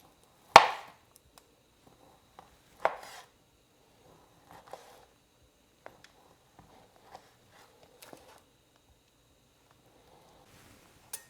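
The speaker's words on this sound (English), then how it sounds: "what you want to do is you want to just cut this into slices" Knife cutting slices from a hot Sopressata salami on a board: a few sharp, isolated chops, loudest at the start, then sparse quieter taps spaced seconds apart in an otherwise quiet kitchen.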